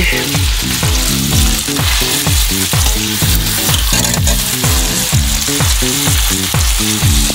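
Chicken liver sizzles steadily in a hot pan for chop suey, a continuous bright frying hiss that runs the whole time beneath a loud, regular pattern of repeating musical notes.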